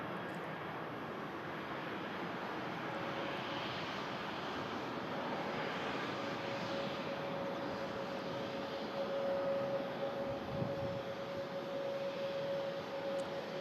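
A British Airways airliner departs Manchester Airport bound for London Heathrow, a faint, distant, continuous jet roar with a thin steady whine emerging midway.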